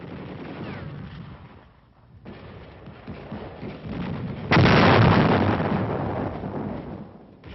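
A high explosive demolition charge detonates at a hillside cave: rumbling blast noise on an old combat film soundtrack swells into a sudden, loud roaring burst that decays slowly.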